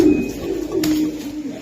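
Young Pakistani pigeons of the Nilakamagar variety coo softly and close by in a low, steady, murmuring purr. A faint click sounds partway through.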